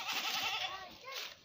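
A goat in an African village bleats loudly and close by, a drawn-out wavering call followed by a second shorter bleat.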